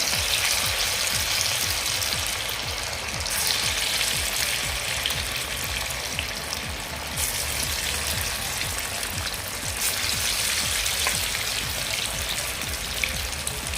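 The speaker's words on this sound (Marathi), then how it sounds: "घालायचे आहे या तेलामध्ये मावतील एवढेच भजी आपल्याला यामध्ये सोडायचे आहे" Chana dal bhaji fritters deep-frying in hot oil give a steady, dense crackling sizzle that fills the whole stretch without pause, loud and close, with no voices.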